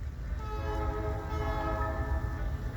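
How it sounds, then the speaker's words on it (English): A CSX railroad tie-replacement train sounds its P3 horn in one long, loud, sustained multi-tone chord over a low rumble of rolling cars at Point of Rocks. "It has a P3 horn too."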